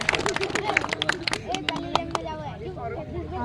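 Audience at a children's day school program applauding a Class 7 student speaker; dense, steady clapping from a crowd, with murmuring chatter underneath throughout.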